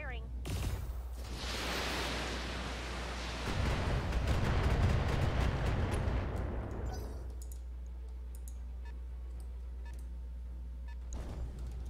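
Heavy mech weapons firing in the BattleTech video game, a dense rumbling barrage that swells then fades into sparse clicks and low hum, with no talk over it.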